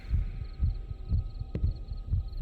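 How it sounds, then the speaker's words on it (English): A character's heartbeat thumps in a ghost-hunting video game, a steady series of soft, low double beats about two per second, close and alone with no voices. "You'll hear the character's heartbeat."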